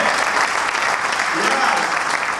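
Loud, steady audience applause at a Baroda corporate training event welcoming a guest, a thick continuous wash of many hands clapping close by, with voices mixed in.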